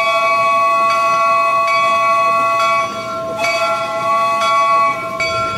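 Disneyland Railroad train rolling into Main Street Station, a steady rumble with bright sustained ringing tones, a bell-like clang recurring every second or so, close and continuous with no talking.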